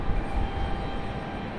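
An airliner rolling off the runway at Raleigh-Durham airport, a steady broad engine rumble with heavy low roar and airy hiss, continuous and fairly loud with no talking.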